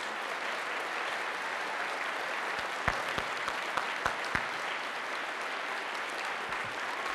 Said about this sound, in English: So I want you to applaud them one more time,